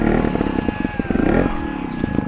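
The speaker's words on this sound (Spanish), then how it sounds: "Y me giro la moto." A trial motorcycle engine idles and blips in short revving bursts up close as the bike is turned around.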